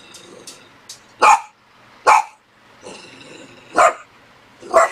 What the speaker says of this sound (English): she barks her full head off